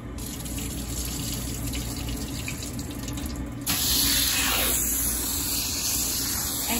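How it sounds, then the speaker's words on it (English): Tap water runs steadily into a bowl of rice being washed for kheer, a constant close rushing hiss that grows louder and brighter partway through, with no voices. "Washing rice. Before I put in the milk, I need to wash them."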